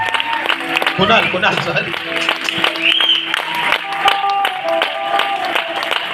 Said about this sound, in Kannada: ಚಪ್ಪಾಳೆ ದಯವಿಟ್ಟು.